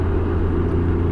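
Can-Am Ryker 900 three-wheeler engine on a test ride, a steady loud low rumble and drone close up, with no clear rev rise across the short stretch.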